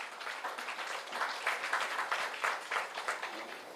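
A crowd applauds steadily, many hands clapping at once in a dense, even patter that swells slightly toward the middle.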